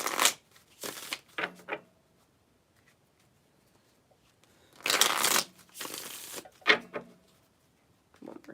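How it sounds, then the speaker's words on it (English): A deck of tarot cards being shuffled up close in a quiet room: several quick riffling bursts separated by short pauses, with no talking. "One more shuffle."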